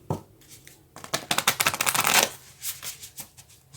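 A deck of Moonology oracle cards being shuffled close by, an isolated flick, then a rapid riffling burst of cards slapping together, followed by a few looser softer shuffles, loud and alone.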